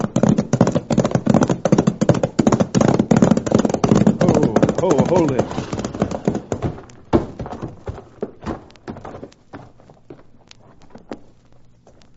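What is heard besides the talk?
horses' hooves clip-clopping in old-time radio drama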